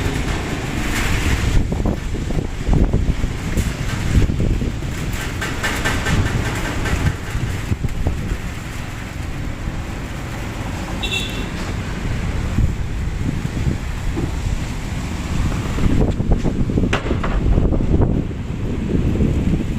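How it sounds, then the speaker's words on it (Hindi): Strong storm wind blows steadily and loudly for a long stretch, with scattered clanks and rattles of tin sheets within the rushing gusts, no voices. "बहुत भयानक तूफान आ रहा है, और किसी की तो टीन बहुत ज़ोर ज़ोर से बज रही है"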